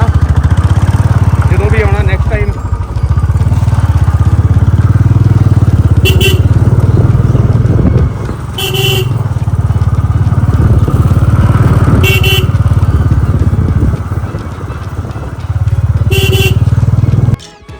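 A motorcycle rides a forest track in Punjab, its loud, close engine droning steadily with brief dips, while people talk over it and several short horn-like beeps sound at intervals.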